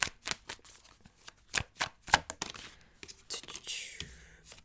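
Tarot cards being shuffled in a run of quick, soft riffling and slapping bursts of varied loudness, ending in a longer papery riffle, close and fairly quiet with no talking.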